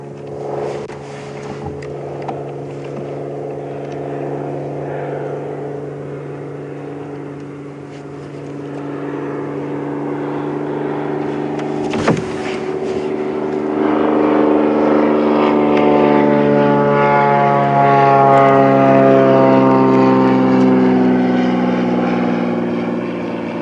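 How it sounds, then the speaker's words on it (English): A propeller aeroplane buzzes overhead above a safari game reserve, a steady droning hum that holds and then grows louder and richer as it passes closer, unbroken for the whole stretch. "Sorry about the aeroplane buzzing overhead."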